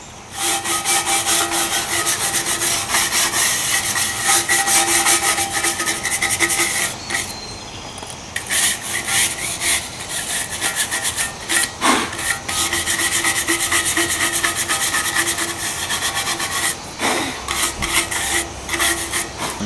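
Rust is scrubbed off a piece of cast iron in long, rhythmic rasping strokes, loud and close, with a few brief pauses between bursts of abrasive rubbing.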